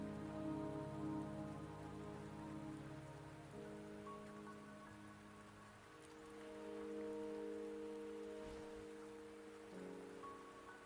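Soft, continuous rainfall patters on surfaces in the video game Wuthering Waves, faint and even, with gentle sustained musical tones drifting beneath it.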